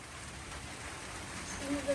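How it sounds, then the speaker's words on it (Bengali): Steady rain falls in a continuous, even hiss, with a faint voice briefly rising near the end. "বৃষ্টি নামে পড়ছে"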